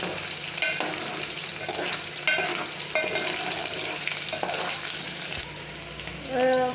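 Onions, curry leaves, chillies, cumin, ajwain and mustard seeds frying in a pan for masala dal, a continuous close sizzle with stirring scrapes throughout.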